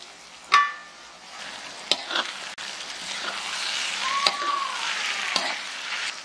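Ground chili paste fries with lime, bay leaves and petai beans in hot oil, a steady loud sizzle broken by a few sharp spatula knocks against the pan.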